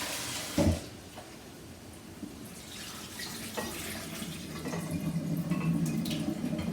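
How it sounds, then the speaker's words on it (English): Green salad leaves rinsed under a running kitchen tap, a steady broadband wash of water with a few knocks and splashes, growing slightly fuller toward the end; no talking. "Rinse the green leaves."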